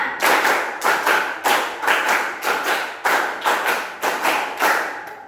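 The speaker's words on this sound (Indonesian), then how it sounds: "Terus 3 kali tepuk 5." Classroom group clapping in tight unison, repeating the clap-five pattern three times: a steady chain of sharp, evenly spaced collective claps with brief gaps between groups, loud and near, no talking.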